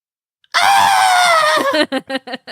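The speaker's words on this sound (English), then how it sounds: "There's just a lot of screaming." A person lets out one long, loud, sustained scream at close range, then breaks into several short, sharp yelps or cries.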